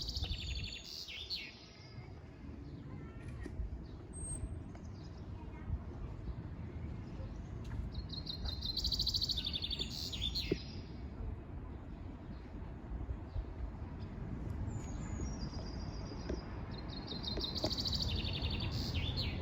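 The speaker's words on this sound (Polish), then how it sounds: "śpiew ptaków wysłuchany" Birds chirp and sing intermittently over a steady outdoor background hum, with short bright calls recurring every few seconds at a moderate distance.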